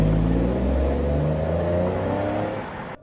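A 2005 Jaguar S-Type with a 2.5 litre V6 petrol engine running loud and close as it drives off, the engine note rising and shifting steadily before easing off at the end.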